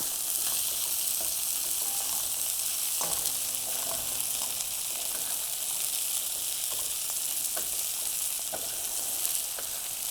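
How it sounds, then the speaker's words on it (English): Seafood sautéing in a hot sauté pan, a steady bright hiss and crackle of frying heard up close, with a few small taps and clicks of a utensil scattered through. "So now it's ready to be turned because my saute pan was nice and hot."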